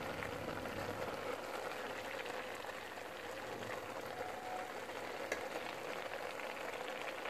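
Grated carrots with a little milk and water cook down on a high flame, giving a steady, close bubbling sizzle that holds evenly throughout.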